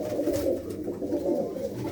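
Several pigeons, including black Cheena pigeons, coo close by, low throaty burbling calls overlapping in a steady rhythm.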